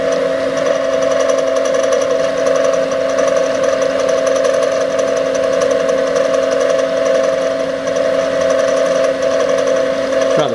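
An Axminster SIEG SX3 milling machine with power feed cuts aluminium, holding a steady, loud mechanical hum with a constant motor whine throughout, no speech.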